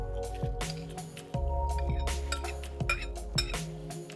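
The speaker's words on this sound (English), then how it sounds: "Now let's add rice to the chicken." Pre-soaked rice tipped into a pot of chicken for one-pot chicken biryani, giving repeated soft wet squishes and drips with light clinks of utensils against the pot, close and moderately loud, with no talking.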